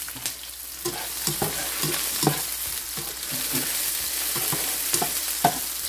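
Garlic sautés in a hot pan, a steady close sizzle broken by repeated scraping stirs of a utensil, with no talking.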